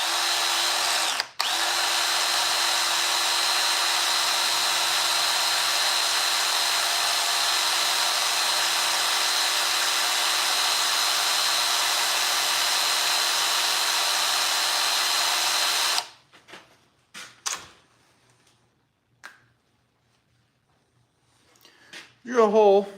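Power drill boring a hole during tractor repairs, a loud, steady, close whine running for about fifteen seconds and then cutting off, followed by a few short clunks and some faint talk.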